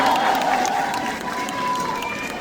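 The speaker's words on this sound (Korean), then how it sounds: "우리 위장님께 다시 한번 큰 박수 한번 보내주시면 감사하겠습니다" Audience applause at the 20th Chupungnyeong song festival celebration concert: a dense, sustained wash of crowd clapping with some cheering, running loud and steady throughout over a held musical tone.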